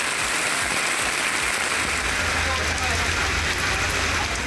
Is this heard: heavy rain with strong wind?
yes